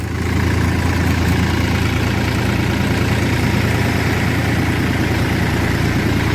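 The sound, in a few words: Ford 3600 or Massey 245 tractor engine idling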